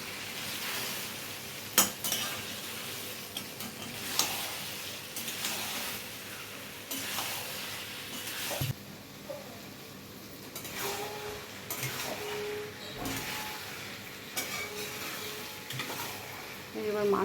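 Taro stolons (loti) cooking in a pan with a little water, a steady frying hiss broken by repeated scraping and clinking of a utensil against the pan as it is stirred, close up, with occasional speech.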